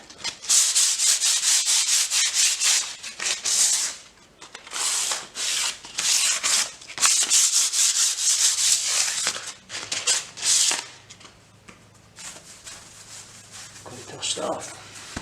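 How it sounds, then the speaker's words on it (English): Light hand sanding of dried primer on a painted-over water stain with P180 sandpaper, a loud steady rasping scrubbed in repeated back-and-forth strokes, close up, pausing briefly between passes. "In primer's dry, ready for a light sand with a P180."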